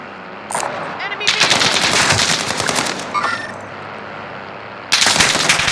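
Automatic gunfire in Call of Duty: Modern Warfare bursts loudly in long rapid strings, pauses briefly with some lighter clatter, then erupts again near the end, close and harsh.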